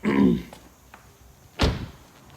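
The hood of a BMW car is popped open with a single dull, solid thunk, nearby and brief, following a short burst of other handling noise.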